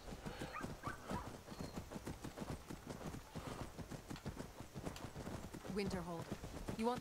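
Horse hooves clip-clop at a steady, rhythmic gait while riding in the video game Skyrim. The hoofbeats stay quiet and continuous beneath a voice talking over them.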